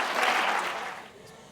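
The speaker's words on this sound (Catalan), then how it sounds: "Un aplaudiment, sisplau." An audience applauds a group of young performers at a youth science and ethics event, a dense wash of clapping that swells early and then steadily fades out by the end.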